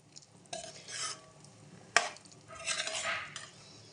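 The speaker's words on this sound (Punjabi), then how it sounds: "ਥੋੜੀ ਜਿਹੀ ਦੇਰ ਲਈ ਆਪਾਂ ਇਹਨਾਂ ਨੂੰ ਪਕਾ ਲੈਣੇ ਤਾਂ ਜੋ ਜਿਹੜੇ ਆਲੂ ਤੇ ਮਟਰ ਨੇ ਉਹਨਾਂ ਦੇ ਵਿੱਚ ਆਪਣਾ ਮਸਾਲਾ ਚੰਗੀ ਤਰ੍ਹਾਂ ਜਾ ਸਕੇ" Potatoes and peas with masala being stirred in a pan for a homemade matar aloo tadka: repeated scraping stirring bursts with soft frying underneath and one sharp clink of the utensil against the pan, close up.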